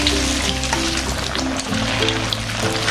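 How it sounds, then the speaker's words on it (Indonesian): Tofu frying in hot oil in a pan, a steady close sizzle and crackle throughout with no talk. "Kita goreng sampai kecoklatan."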